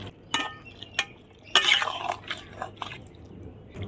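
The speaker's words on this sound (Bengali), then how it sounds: "এখন আমি পনিরটা দিয়ে দিচ্ছি" Paneer tipped into a cauliflower curry in a pan and stirred, with a few sharp clinks of a utensil on the pan followed by soft wet stirring and squishing, close and fairly quiet, no voices.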